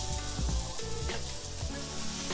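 Smash burger patties frying on a hot griddle, a dense continuous close sizzle with low rumbling crackle throughout and no speech.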